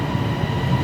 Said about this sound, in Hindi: हे पहा, आली आपली मेट्रो.